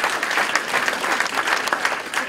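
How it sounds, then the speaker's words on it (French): A crowd at a mayor's New Year's greetings event in Vauxbuin gives steady, dense applause for the organisers, close and sustained without a break. "Je pense qu'on peut les applaudir"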